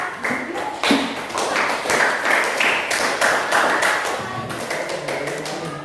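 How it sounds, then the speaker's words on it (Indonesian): A small group in a classroom gives a burst of applause, fairly close, steady and lasting several seconds, with some quick taps among the claps. "Berikan tepuk tangan untuk kelompok."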